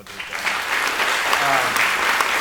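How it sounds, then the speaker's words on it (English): A masterclass audience breaks into a big round of applause, a dense, steady wash of clapping that swells within the first half second and holds at an even, fairly loud level to the end. "I want to give them a big round of applause"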